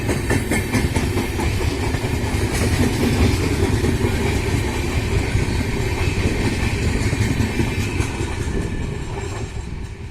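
Economy three-tier Hamsafar coaches of the Narasapur–Bengaluru holiday special rolling on the rails, a loud continuous rumble with rapid clickety-clack wheel beats from close by, and no talking.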